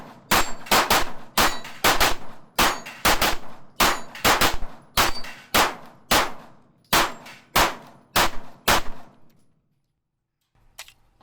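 A Sig Sauer P226 X-Five Legion 9mm pistol fires 124-grain Fiocchi rounds at steel plates, giving about fifteen sharp shots, each with a ringing clang. The shots come in a quick, fairly even rhythm, then pause before one faint last impact.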